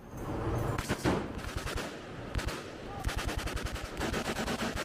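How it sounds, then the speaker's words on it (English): .50 caliber machine guns fire from a naval ship in rapid, loud bursts, with the shots later falling into a fast, evenly spaced rhythm. "sailors are trained to operate powerful .50 caliber machine guns."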